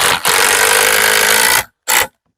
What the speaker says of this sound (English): a couple screws.